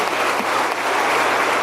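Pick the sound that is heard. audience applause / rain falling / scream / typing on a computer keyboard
audience applause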